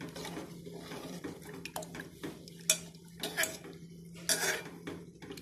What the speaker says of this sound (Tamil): தண்ணி ஊற்றிட்டு நல்லா ஒரு வாட்டி கலக்கி விட்டுக்கோங்க.